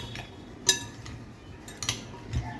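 A utensil stirs a salad dressed with vinegar, giving a few light clinks and scrapes against the dish, close and sparse with quiet gaps between.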